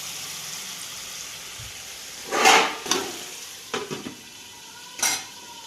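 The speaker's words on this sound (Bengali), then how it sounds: "এখন মিডিয়াম হিটে আমি রাখবো, যাতে মাংসটা দই আর চিকেনের জলে সিদ্ধ হয়।" Chicken simmers on medium heat in yogurt and its own juices, a soft low bubbling broken by a few brief spoon scrapes and stirring knocks against the pot, with no voices.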